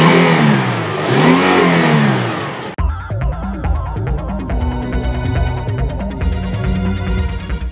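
Honda BF250 outboard motor revving loudly up close, rising and falling sweeps of engine roar, then a sharp cut into a rough, pulsing throttle run with repeated revs.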